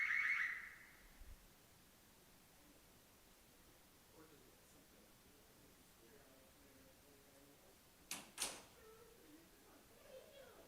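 A short, piercing electronic alarm tone sounds at the start, then stops, leaving a quiet room with faint murmuring and a couple of sharp clicks.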